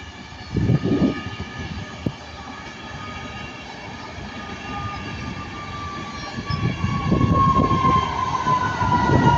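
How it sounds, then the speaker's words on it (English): A passing train at Ardwick, the 33103 running from Liverpool to Manchester Airport, gives a steady rumble with rhythmic wheel clatter and a rising tonal whine, growing louder toward the end. "there goes 33103 going from Liverpool Line Street to Manchester Airport"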